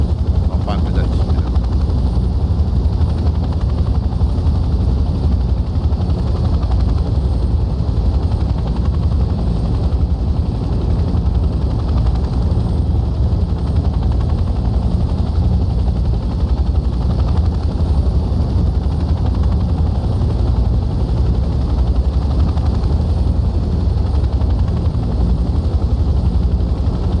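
A helicopter in the video game Hell Let Loose: Vietnam drones loudly and steadily with a constant rotor thrum, nearby and unbroken throughout.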